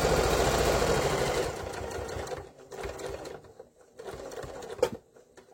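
A sewing machine stitches a fabric cigarette case. A rapid, close mechanical chatter runs steadily, then breaks into short stop-start bursts with a faint click among the pauses.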